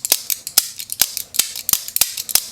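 A Demko AD20.5 folding knife with stainless steel liners snaps open and shut repeatedly, giving about ten sharp, bright, close metallic clicks in an uneven rhythm with no talking.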